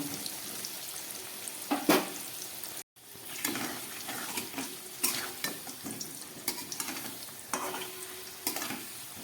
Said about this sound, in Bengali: খুব ভালো করে এবার আমি আলুটাকে ভেজে নেব।